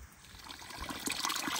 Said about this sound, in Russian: Родничок.